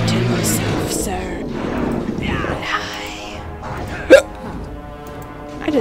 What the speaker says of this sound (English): I just hiccuped. Did you hear that?